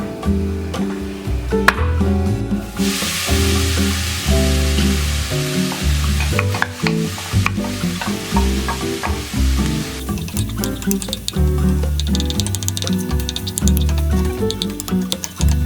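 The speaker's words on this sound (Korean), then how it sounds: "두부를 볶아서 수분을 날려줄 거예요" Tofu stir-fries in a pan to drive off its moisture, giving a continuous crackling sizzle broken by repeated clicks and scrapes of a utensil stirring against the pan.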